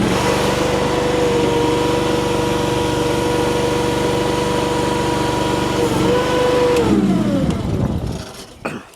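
Compact loader engine, V1000 or DRT450, starting and running at a steady loud drone with a constant tonal hum that shifts briefly before the engine winds down near the end, heard up close.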